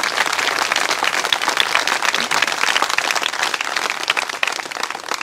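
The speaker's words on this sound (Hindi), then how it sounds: "बहुत कमजोर ताली है ईश्वर के लिए" An audience claps steadily and densely for several seconds, a loud, continuous patter of many hands with no voices over it.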